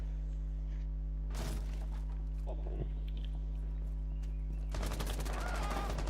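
Gunfire bursts out in a Rainbow Six Siege multiplayer match, with a short rattling volley early and a longer burst near the end, set over a steady hum with a faint voice.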